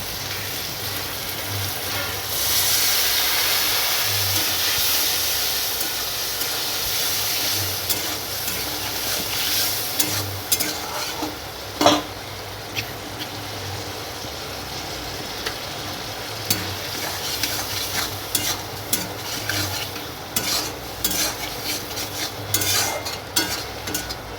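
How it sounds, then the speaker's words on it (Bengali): Ginger and cumin paste with a splash of water being stir-fried in a pan, a steady sizzle under repeated scraping and stirring strokes with occasional sharp utensil knocks, close and fairly loud throughout. "আর এটা হলো আদা বাটা তারপর জিরে বাটা দেওয়ার পর সামান্য জল দিয়ে কষিয়ে নেব"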